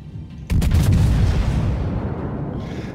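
Heavy battleship main guns firing in the World of Warships naval game, on the American battleship Georgia: a sudden deep booming blast with a long rumbling decay, loud and close, with no talking.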